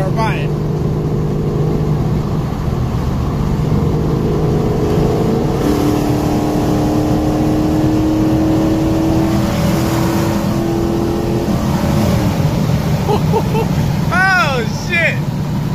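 A car fitted with long tube headers accelerates hard in third gear, its loud exhaust roar climbing steadily in pitch from close by, with a brief voice near the end.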